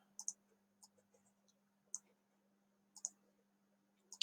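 Keys on a computer keyboard are typed in a quiet room, producing sparse, crisp clicks in small clusters with pauses between them over a faint steady hum.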